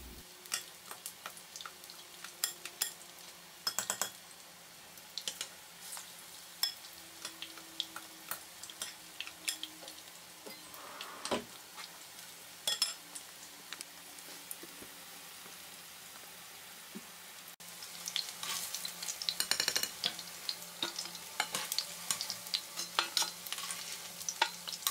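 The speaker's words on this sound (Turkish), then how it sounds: "ısınmış olan yağımın içerisine tavukları atıyorum ve altın renk alana kadar kızartıyorum" Marinated, batter-coated chicken pieces frying in hot oil, giving a steady soft sizzle with scattered crackles and pops that grow busier and louder toward the end, heard close with no talking.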